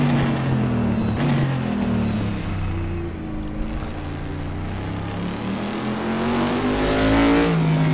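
A racing car engine in a sim racing game at Monza roars continuously with shifting pitch as it accelerates and changes gears, loud and close, with no talking.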